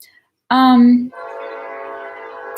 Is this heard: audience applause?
no